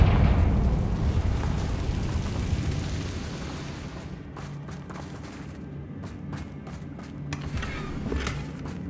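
A Confringo spell blast in Hogwarts Legacy, a loud booming explosion that rumbles and fades over several seconds, followed by scattered crackling pops and debris.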